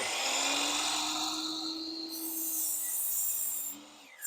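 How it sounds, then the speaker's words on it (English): A compound miter saw cuts through a board for a loft bed build, a loud high whine and rasping cut that holds steady, then spins down near the end, close and with no talking. "bring the compound miter saw down, and I'm going to make my first cut right here"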